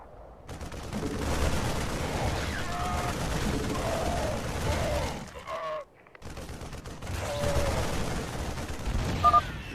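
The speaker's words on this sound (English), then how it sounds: "They're shooting civilians!" Gunfire as soldiers shoot civilians in a StarCraft 2: Wings of Liberty cutscene, with sustained rattling bursts under shouted dialogue and a brief pause near the end before the shooting resumes.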